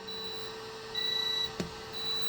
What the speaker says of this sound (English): low voltage alarm on the inverter here